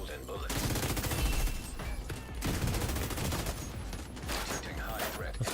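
Sustained, loud turret gunfire in The Division 2 hammers almost without pause, a dense rattle of rapid shots with brief gaps.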